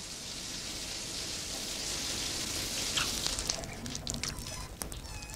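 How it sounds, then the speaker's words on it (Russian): A shower runs with a steady, dense spray of water hissing and splashing, continuous throughout, with some irregular drips and splatters toward the end. "Душ — это чудесно."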